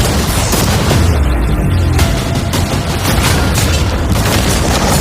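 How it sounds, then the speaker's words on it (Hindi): Cannons in a video game fire at a yacht, a loud, dense barrage of deep booms and blasts that runs without a break and fills the whole stretch. "अब हम तुम्हारी नई यॉट पर कैनन्स को शूट करने वाले हैं।"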